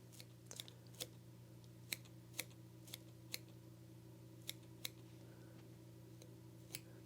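A pair of curved scissors snips in short, crisp cuts at an uneven pace while trimming a trout fly, about a dozen clicks over a steady low hum.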